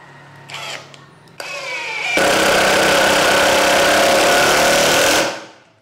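A Tekiro CD-ID2071 cordless brushless impact driver at speed setting 3 drives a screw. A few short starts come first, then one loud, close, continuous hammering burst of about three seconds that cuts off and fades.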